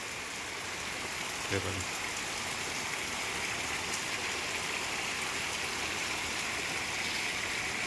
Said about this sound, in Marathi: काय खरं नाही पावसाचं